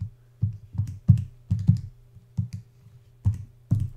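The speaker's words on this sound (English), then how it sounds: "Using your calculator, I can punch it in." Keys punched on a calculator, about ten sharp, close plastic clicks in an irregular rhythm, some in quick pairs, over a quiet background with no talking.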